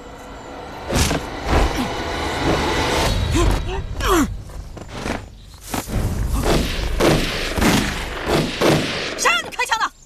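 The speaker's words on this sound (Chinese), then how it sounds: "谁让你开枪的？" Gunfire in a Chinese anti-Japanese war drama: several sharp bangs scattered among shouting voices, horse and movement noise, loud and fairly close with a burst of rapid cracks near the end.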